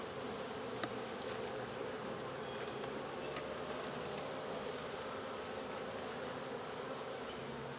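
Agitated honey bees buzz at an open hive from newly installed packages, a dense unbroken drone that holds steady throughout, with a few faint clicks and no speech.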